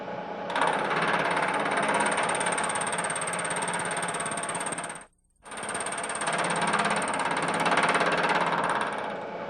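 Milling machine taking a cut of about twenty thousandths of an inch on a metal workpiece in a machine shop, a loud continuous rattling grind that stops briefly midway, then resumes for several more seconds, no talk.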